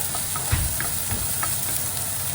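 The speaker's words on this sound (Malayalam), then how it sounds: "തീ കുറച്ച് വെച്ചിട്ടാണ് ഞാൻ ഇളക്കുന്നത്" A steady frying sizzle of green peas curry cooking on a low flame fills the clip, with a few soft scraping strokes of a utensil stirring food in a pan.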